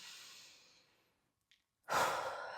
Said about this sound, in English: take a big deep breath in through the nose and out through the mouth